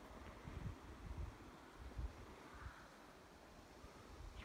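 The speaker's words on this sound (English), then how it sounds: "Luckily it's windy" Wind blowing along a walking trail in Denali National Park, Alaska, a soft, steady rushing hiss with low buffeting gusts on the microphone and no voices.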